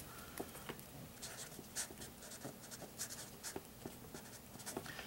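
A pen squeaks and taps across a board in short, irregular strokes while a faint murmur of a room sits underneath.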